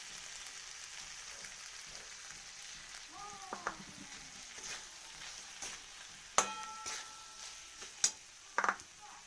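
Roasted semolina is stirred into fried potatoes in a pan, giving a faint, low sizzle with soft scraping and a few sharp metallic clinks of the spatula toward the end.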